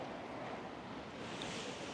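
Sea waves washing onto the shore at Tossa de Mar in Catalonia, Spain, a steady broadband surf wash with wind noise on the microphone, continuous and fairly soft with no talking.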